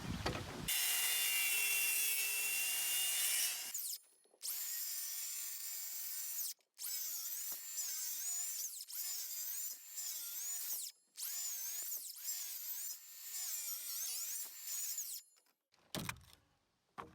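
A hand or power saw cuts a series of lines into a log for a cabin wall, loud rasping bursts repeated in about six separate passes with short pauses between them, close and without talk.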